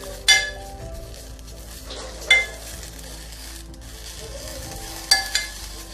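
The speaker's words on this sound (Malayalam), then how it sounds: "അതിനകത്തോട്ട് നമ്മൾ കഴുകി വെച്ചേക്കുന്ന മുരിങ്ങയില ഇട്ട് കൊടുക്കുവാണ്. ഇത് ചെറുതായിട്ടൊന്ന് ഇളക്കി" Washed drumstick leaves being stirred in a cooking pot over a steady low sizzle, with a few sharp clinks of the spoon against the pot at irregular intervals.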